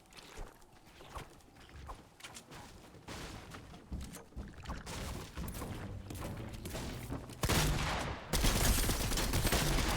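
Gunfire in Fortnite comes in rapid, dense bursts, rattling volleys that build and grow louder toward the end, with loud crackling blasts up close and no talk over them.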